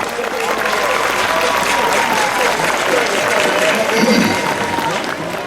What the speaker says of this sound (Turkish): İkisi için de birer alkış daha rica ediyoruz